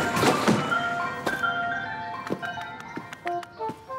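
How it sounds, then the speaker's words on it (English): A cartoon ice cream truck from an animated Garfield episode plays a bright, tinkling jingle, punctuated by a few sharp thumps and rattles as it hits a pothole in the street. "I see that the ice cream truck will hit a pothole in the street"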